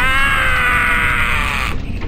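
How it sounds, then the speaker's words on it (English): A man's sustained, strained scream in an Elder Scrolls game, loud and close, holding steady for nearly two seconds before cutting off abruptly. "Hey man, stop screaming!"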